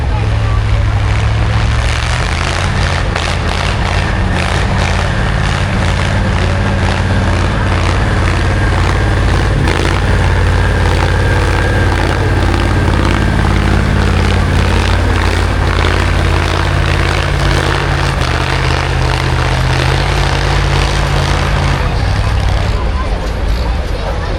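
A powerful Fiat V8 tractor-pulling engine roars loudly and steadily close by at a steam rally, its deep rumble holding for the whole stretch.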